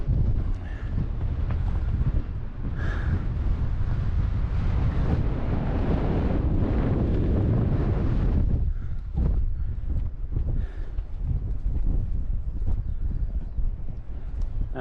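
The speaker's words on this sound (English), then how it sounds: "Breeze has picked up even more." Strong wind buffets the microphone on an open Lake District fell near Brothers Water, a loud continuous roar with gusts that surge and drop, easing briefly before building again.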